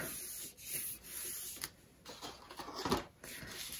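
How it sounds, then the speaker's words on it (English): A close, dry rubbing and scraping sounds as paper is burnished down by hand onto an album base page, in short uneven strokes. "burnish it down nicely"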